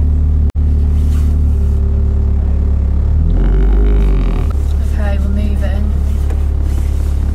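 Steady engine hum and road rumble inside a small car while driving, loud and continuous, with a brief knock near the start and a louder rumbling swell midway; no talking.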